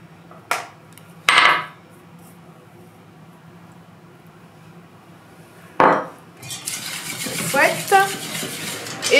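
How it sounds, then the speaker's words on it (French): Melted butter and chocolate mixture being stirred into cake batter in a bowl, a few scraping and clinking utensil strokes followed by a busier stretch of wet mixing and bowl knocks near the end. "On ajoute ensuite le mélange beurre-chocolat qu'on a fait fondre au micro-ondes."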